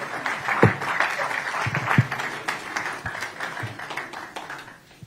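Audience at a regional maritime workshop in Lagos applauding after a speech, moderate, uneven clapping from a medium-sized room with a few louder nearby claps, gradually thinning toward the end.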